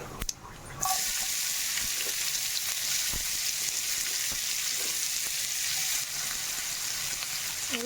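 Chopped onions hitting hot oil with cumin seeds for an Andhra egg pulusu, a sudden loud sizzle that stays dense and even, with faint clinks of stirring throughout.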